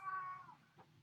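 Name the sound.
cat yowling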